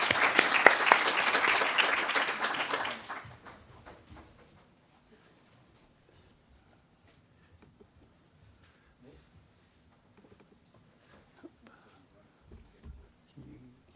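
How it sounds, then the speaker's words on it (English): A conference audience applauds after a scientific talk on wildlife disease, a dense loud burst of many hands for about three seconds that quickly fades into quiet room noise with scattered faint knocks and murmurs. "I think we can have a round of applause again"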